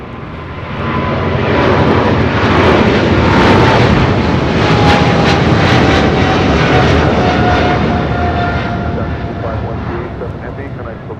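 An airliner flying at LAX roars loud and close, its engine noise swelling steadily and holding for several seconds before easing slightly, with a faint whine sliding across the rumble.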